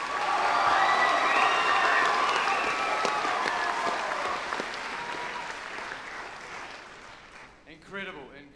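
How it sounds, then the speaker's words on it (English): An audience in a hall applauds and cheers at a school house music competition at Rathkeale College. The dense applause slowly fades, and a voice speaks near the end. "applause for Hellberg House."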